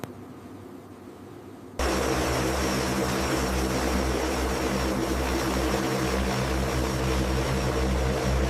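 Engines of a Hercules military transport aircraft taxiing, a loud, steady propeller drone with a deep hum that starts abruptly after a quieter stretch and then holds constant, with no voices.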